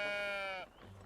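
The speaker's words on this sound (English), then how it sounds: "We have our sheep." A sheep in the video game Tiny Glade gives one clear, steady bleat lasting about half a second, then fades into quiet background sound.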